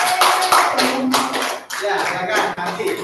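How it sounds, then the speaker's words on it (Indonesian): Audience applause in a classroom or school assembly, dense clapping filling the whole stretch at a steady, fairly loud level, with voices mixed underneath. "Tepuk tangan, luar biasa."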